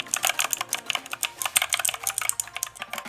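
Rapid typing on a G-Lab Carbon² mechanical keyboard with blue switches gives a steady stream of sharp, clicky keystrokes, close and fairly loud, with no talking.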